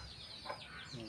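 Backyard chickens make a brief, faint cluck against a steady background of low noise, with a soft voice nearby.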